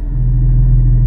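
A loud, deep exhaust rumble from a Porsche 718 Cayman GT4 with exhaust valves open drones steadily up close, heavy and low for about a second with no talking.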